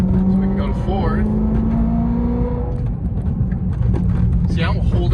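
A manual-transmission car's engine revs up to about 3,500 RPM and holds there, a loud steady drone with a rising whine, heard from inside the car as voices talk over it.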